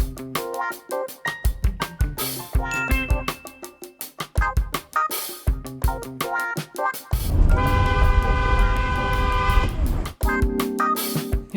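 A car horn honks in road traffic, blaring loud and close in repeated bursts of varying length, including one long continuous blast in the middle.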